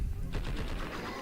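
Gunfire in the video game Blood and Bacon, a fast rattling burst of shots coming in a third of the way through and continuing under a muffled, noisy background.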